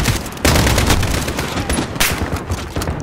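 Dense, continuous automatic gunfire from a Call of Duty: Modern Warfare match, loud and close, with overlapping bursts and booming shots filling the whole stretch.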